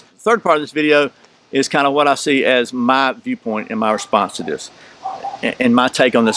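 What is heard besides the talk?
No everyday noises stand out.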